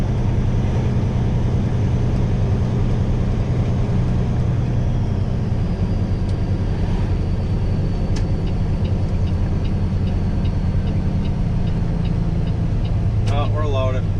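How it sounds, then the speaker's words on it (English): Peterbilt 389 truck engine while driving and shifting gears, a loud continuous low diesel rumble with road noise that changes pitch as gears change, close by, with people talking over it. "I think this truck shifts smoother than the other one."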